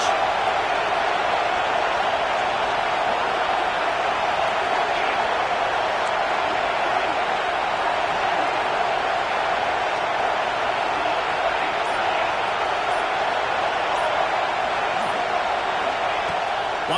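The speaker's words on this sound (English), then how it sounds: "Here comes 2nd down, and this crowd is turning it up a notch." A loud football stadium crowd roars steadily and continuously at a college game on second down, a dense, sustained wall of cheering noise that holds at a high level throughout without breaks.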